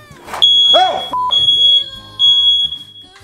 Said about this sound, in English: My fire alarm will go off for literally anything.